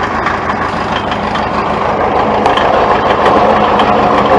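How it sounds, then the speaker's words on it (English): An old International 450 tractor with a belt pulley at a farm auction, its engine running with a steady, loud, low diesel rumble close by, with no voices. "Listen to that. This is a darn good tractor."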